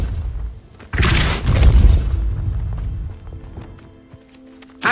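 A Depulso spell blast in Hogwarts Legacy lands as a sudden loud whooshing boom with a heavy low rumble that rolls and fades over a few seconds, ending in a short sharp hit.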